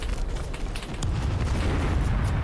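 Striker NGS main gun firing in the video game Apocalypse 2066 during a massive fort assault, with deep booming blasts and rumbling explosions that grow denser and louder in the second half.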